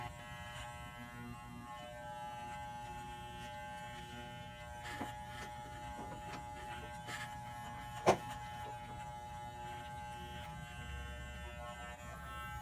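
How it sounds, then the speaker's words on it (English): An electric hair clipper set to the #1 guard buzzes steadily and close while cutting a client's hair, a continuous even hum with one brief sharp click partway through. "going to come back with that clipper in the #1 position"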